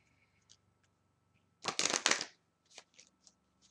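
A short burst of tarot cards being riffled and shuffled, followed by a few soft taps and flicks in an otherwise quiet room.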